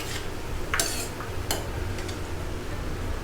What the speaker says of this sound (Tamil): பாருங்க, நல்லா மிக்ஸ் ஆகிடுது.